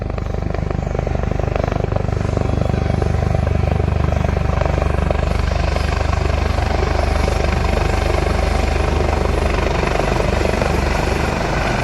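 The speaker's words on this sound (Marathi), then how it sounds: "तर हे बघा हेलिकॉप्टर आलेलं आहे आत्ता" A helicopter arriving at a crowded public welcome for a politician, its loud, steady rotor and engine roar holding continuously near the listener throughout with no break.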